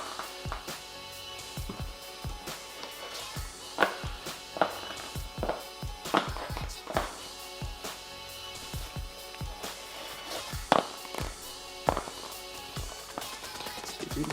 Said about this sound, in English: You can hear the thuds when they hit the ground.